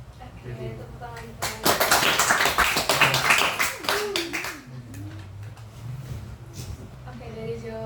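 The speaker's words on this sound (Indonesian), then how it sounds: "Oke, tepuk tangan." Students applaud in a classroom, a burst of clapping from many hands lasting a few seconds, with a teacher's voice talking before and after it.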